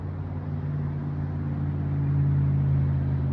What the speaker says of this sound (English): you can hear the traffic just driving up this hill